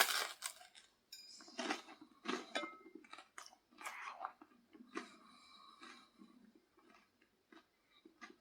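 Crisp, crunchy bites and chewing of a feta cheese and red onion chutney crostini, close and quiet, in a series of irregular crunches with brief pauses between.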